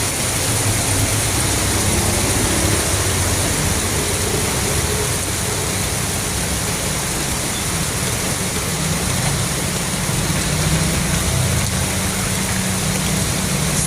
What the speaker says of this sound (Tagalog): Wala pa rin tigil sa ulan.